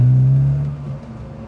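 A Volvo 240 engine hums on the road, a strong low droning tone that holds steady for under a second, then drops and fades as the revs settle.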